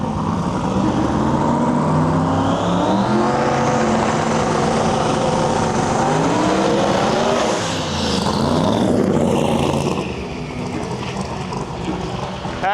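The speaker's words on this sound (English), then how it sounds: "Up next here, we got a solo pass, another 69 Camaro." A 1969 Camaro pro mod makes a solo drag racing pass at a qualifying event, its engine roaring loud and continuous as it climbs through the revs, then fading as the car backs off near the end.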